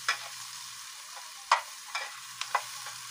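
Onions get stirred in a frying pan with a soft sizzle, and a utensil scrapes and taps against the pan a few times in irregular bursts.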